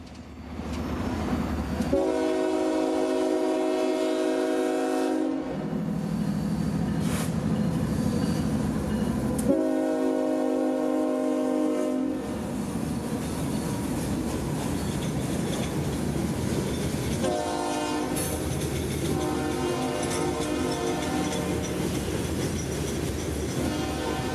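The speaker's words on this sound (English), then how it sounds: "he'd be cruising around the curve, triggering the crossing gates and bells of the handful of downtown roads" A CSX freight train led by two General Electric wide-cab locomotives rolls through a downtown crossing, sounding repeated long horn blasts over the steady rumble and clatter of passing cars.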